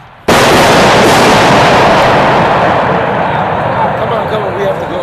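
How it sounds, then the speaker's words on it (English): Gunshots just outside a door: a sudden loud burst that becomes a dense, sustained crackle of rapid fire, close and harsh, slowly fading over several seconds. "We just heard gunshots just outside this door."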